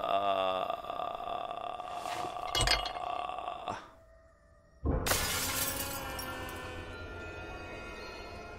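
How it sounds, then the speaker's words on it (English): Glass shattering as a metal pole pierces it in the horror video game Visage, a loud crash at about five seconds with a long ringing scatter of shards, preceded by tonal in-game sounds and a brief hush. "the way that pole was penetrated through the glass"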